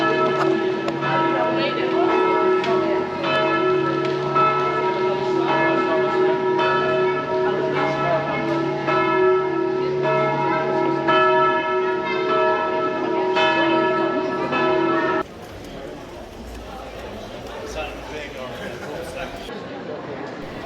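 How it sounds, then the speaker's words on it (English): Church bells in Prague, Czechia, peal at noon in a steady, repeated rhythm for about fifteen seconds, resonant and fairly close, then stop, leaving quieter outdoor ambience; people talk underneath. "So the church bells from right up here are going off."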